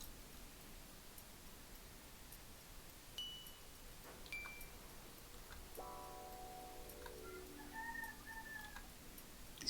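A rooster's crow rises and trails off through a steady hiss, preceded by a few small clicks, with faint bird calls following; moderately distant, no speech.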